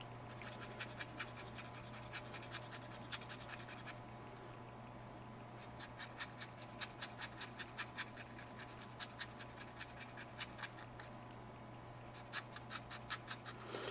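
A pencil scraped over paper as it is sharpened, in steady bursts of quick, crisp, close strokes with a short pause, over a constant low hum.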